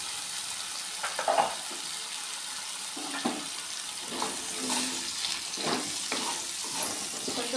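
Salted potatoes fry in a pan with a quiet, continuous sizzle, broken by a few soft clinks and scrapes as they are tossed.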